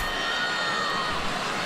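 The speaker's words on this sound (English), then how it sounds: "Murmur in the crowd as the players come back out" A tennis crowd murmurs steadily at the US Open men's final as the players return to court for the third set, a continuous, even wash of indistinct voices.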